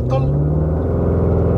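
A Maserati SUV launches at full throttle, its engine a loud, close, steady roar with a rising tone, and a short voice is heard at the start.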